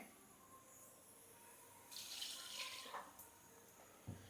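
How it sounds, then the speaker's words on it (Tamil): A burst of running water pours into a pot of sautéed vegetables for Coimbatore sambar for about a second mid-clip, fairly close, surrounded by quiet background with a small clink near the end. "இப்போ நான் இவ்வளோ தண்ணி ஊற்றுறேன்"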